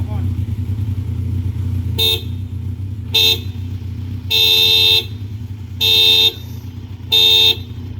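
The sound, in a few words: aftermarket horn on Kawasaki Ninja 1000 SX motorcycle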